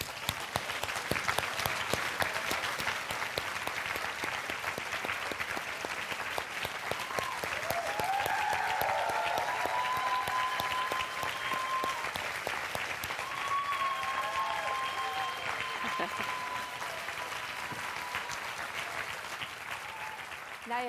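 Sustained applause from a yoga class audience at an Iyengar intensive as Guruji leaves, steady dense clapping throughout with faint voices mixed in.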